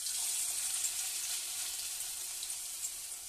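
Malabar spinach fritters fry in hot oil, giving a steady, loud, close sizzle that hisses evenly throughout with no one speaking.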